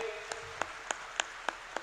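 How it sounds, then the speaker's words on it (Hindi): Sparse, evenly spaced claps ring out at a spiritual gathering, about six distinct hand claps over a low hum of the hall, fairly faint overall. "आयोजन के लिए दिन रात एक करके जुटे हमारे सभी स्वयंसेवी कार्यकर्ताओं के लिए जोरदार तालियां सभी बजाइए।"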